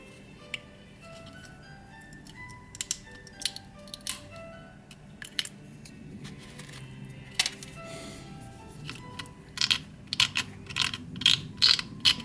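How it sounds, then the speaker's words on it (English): Two small gearboxes are cut loose from model train bogies while fitting Kadee couplers: scattered sharp snips and clicks, growing denser near the end, close and crisp against a quiet background, with no talking. "let me see if I can cut these two gearboxes loose"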